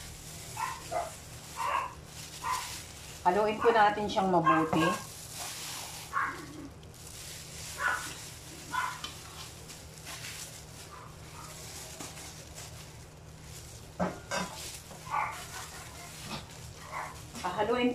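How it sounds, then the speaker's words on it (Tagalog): Dogs bark and yip in several short bursts, a sharp cluster standing out near the start, while a person talks in a kitchen during the mixing of ground pork for embutido. "Sinsya na po, marami kaming aso."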